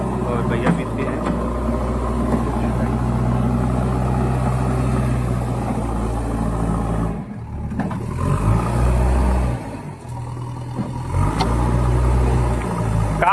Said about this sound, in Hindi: यहाँ पर गाड़ी चल रही है